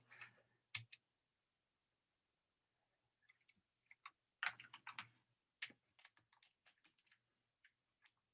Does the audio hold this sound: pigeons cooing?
no